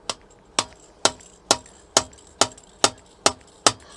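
Nine evenly spaced metallic taps as a GSXR 600 fork section is used as a slide hammer on an oil seal, each a crisp, close knock at a steady half-second rhythm.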